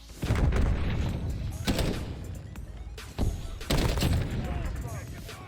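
Several bursts of SCAR rifle gunfire in Modern Warfare crack out in quick succession, loud and close, with a busy rumbling background between shots.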